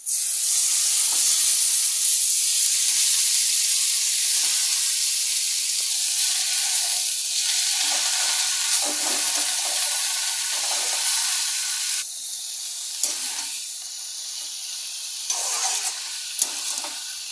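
Leafy greens fry in a pan with turmeric and salt, giving a loud, steady sizzle and hiss that runs throughout, with a few brief stirring clicks near the end.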